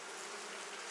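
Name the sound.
honeybees buzzing on a brood frame in a hive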